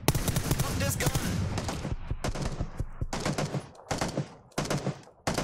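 Rapid gunfire bursts in a battle-royale video game, loud and close, with automatic rattles and separate shots across the whole stretch, along with some talking.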